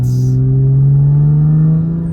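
Toyota JZX100 with a swapped turbocharged GTE engine and a Greddy intercooler, heard on its first drive: a loud, steady engine drone holds close and smooth across the whole stretch, its pitch rising slightly, with no talking.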